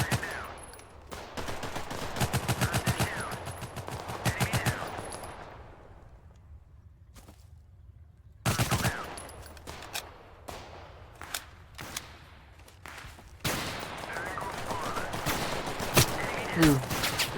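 Bursts of automatic gunfire and single shots in the shooter game Total Conflict: Resistance, loud and repeated in clusters with pauses between, some rapid sustained strings, no talk over them.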